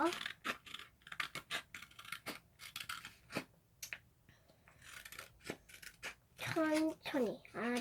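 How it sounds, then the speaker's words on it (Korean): Child's scissors snipping paper while making a Pikachu craft, a quick run of close, crisp cuts in irregular bursts, with a voice speaking at the end. "저는 1학년이어서 1학년부터는 가위질을 배워야 해요"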